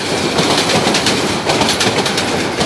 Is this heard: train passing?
yes